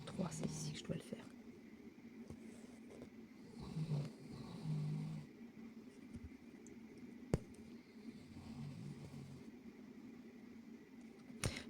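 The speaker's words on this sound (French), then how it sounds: "Encore une fois, pardon pour les ronflements." A sleeping person snores nearby in a quiet room, with soft, low, rhythmic breaths that rise and fall at intervals beneath faint whispering and light handling noises.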